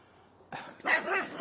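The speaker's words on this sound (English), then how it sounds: "There's a dog on the other side." A dog barks once or twice nearby, a short sharp outburst after a quiet moment.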